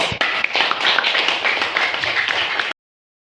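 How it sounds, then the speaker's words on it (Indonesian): Students in a high school physics classroom break into brisk clapping that stays dense and steady for under three seconds before stopping abruptly. "Untuk hari ini kita aplaus semua."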